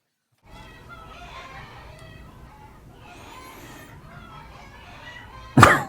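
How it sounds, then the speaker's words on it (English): Chickens clucking in a woodworking shop, a steady low murmur of fowl calls over light background noise, ending in a short loud burst. "Damn chickens."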